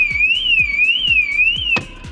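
A car alarm wails loudly nearby in a steady rising-and-falling siren with a rhythmic pulsing thump underneath, then cuts off abruptly near the end.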